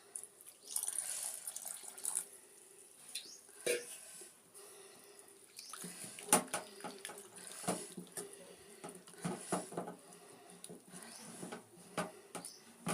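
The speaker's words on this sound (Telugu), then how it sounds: "కొద్దిగా వాటర్ పోసుకుందాం." Water is poured in small splashing bursts into cooked lentils for gongura pappu in a home kitchen, faint and intermittent with quiet gaps between pours.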